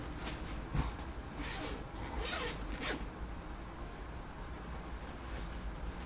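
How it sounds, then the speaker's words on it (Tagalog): School bag zipper pulled open in a few quick rasping strokes, close and clear over a steady background hum. "dito na tayo sa pinakalas na zipper"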